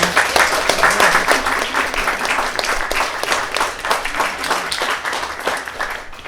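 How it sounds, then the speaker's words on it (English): Audience applause for student ambassadors at an evening founder talk in a community co-op space, a loud, dense burst of clapping that continues steadily for over six seconds and tapers slightly toward the end. "And a round of applause for our student ambassadors."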